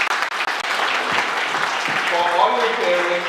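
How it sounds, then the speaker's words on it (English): Children and families at a World Hindi Day celebration applaud their parents, with dense, sustained clapping swelling after a few sharp early claps and a voice speaking over it near the end. "can you have a round of applause for all your parents"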